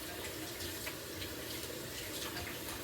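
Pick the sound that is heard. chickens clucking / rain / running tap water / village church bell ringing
running tap water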